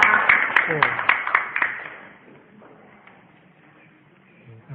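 An audience at a religious study gathering breaks into applause as a speaker comes forward, starting with a burst of close clapping that fades within two seconds into quiet room sound.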